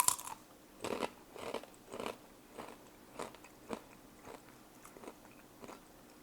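Close-up bites and crunches into a cucumber habanero snack, a crisp first bite followed by about eight rhythmic chewing crunches that gradually soften, alone with no talk.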